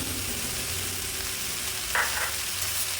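Parshe fish curry with brinjal, potato and turmeric sizzling steadily in a pan as it is stirred, a constant close frying hiss with a brief scrape of the spoon midway.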